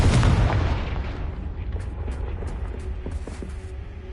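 A fiery Confringo blast spell explodes in Hogwarts Legacy: a loud, heavy boom that rumbles and slowly decays, followed by faint scattered crackles and creaks as the blast settles.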